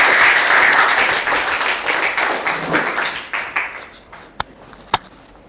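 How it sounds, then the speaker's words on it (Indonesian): Classroom applause for a student: a burst of many hands clapping that fades over a few seconds, ending in two or three isolated claps. "Terima kasih, tepuk tangan buat Dilan."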